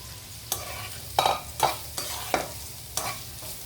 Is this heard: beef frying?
yes